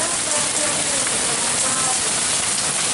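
Hail and rain fall hard in a hailstorm, a dense, even hiss and patter with scattered sharper impacts throughout, steady and close.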